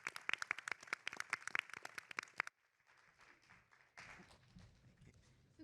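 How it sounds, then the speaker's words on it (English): Audience claps at a pitch competition during an annual summit, a couple of seconds of sharp hand claps from a modest crowd that stop abruptly, leaving quiet room tone and faint shuffling. "Let's give him one more round of applause."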